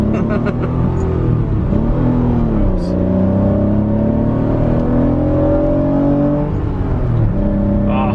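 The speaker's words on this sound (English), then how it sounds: "it's just the sound that a naturally aspirated motor makes just so different than" A naturally aspirated Acura NSX engine pulls hard from inside the moving car, its tone climbing steadily through the gears over a constant road rumble, with occasional voices in the cabin.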